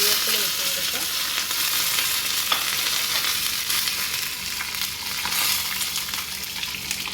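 Dried red chillies and curry leaves sizzle in hot oil while a tempering is made for mango pulissery, giving a dense, loud, continuous crackle with light stirring.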